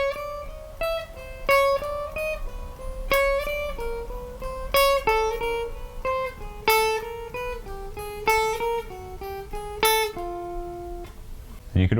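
Guitar picking pattern played in order, moving to the next pattern on each descent: a steady stream of clear plucked notes with periodic louder strums, close and alone, no talk.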